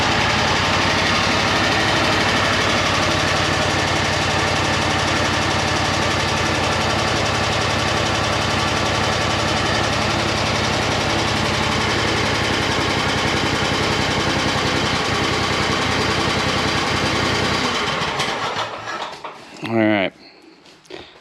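An Exmark Lazer Z riding lawn mower engine runs after starting with choke, a loud, steady close-up drone that holds for most of the time before cutting off near the end.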